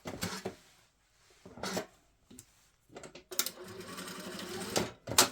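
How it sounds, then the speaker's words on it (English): A sewing machine stitches a trouser band in short bursts, a loud rapid mechanical chatter starting and stopping several times between quiet pauses, close up with no talking. "I will just sew here just a little bit to hold it"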